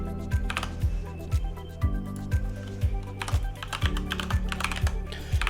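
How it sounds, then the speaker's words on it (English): Steady clatter of a computer keyboard as a username and password are entered for a game, with rapid key taps under a regular low electronic pulse. "Type in your password"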